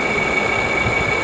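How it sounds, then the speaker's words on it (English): A Frigidaire unit with a bad fan motor runs on low with a steady whirring hum and a thin constant whine, close and unbroken. "And we'll put it on low fan."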